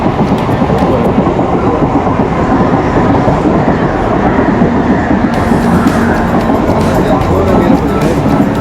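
A train from Chennai toward Chengalpattu rolls steadily along the tracks, with a constant loud rumble and rhythmic rattling of the carriages throughout.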